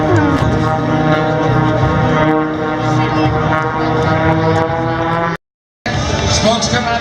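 A propeller airplane makes a pass at an air show, its engine drone loud and continuous, with an announcer's voice over it and a brief cut to silence near the end.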